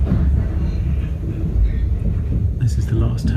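A passenger train rumbles steadily while crossing from Switzerland into Italy near Como, a continuous low rolling drone with faint higher clatter toward the end, heard from inside the carriage.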